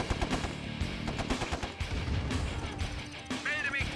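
Units firing during a battle in the real-time strategy game Command & Conquer Remastered, a steady stream of rapid gunshot bursts and impacts running throughout over busy game sound, with a little talk mixed in.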